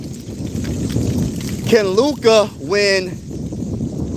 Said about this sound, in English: Dang, it's getting windy.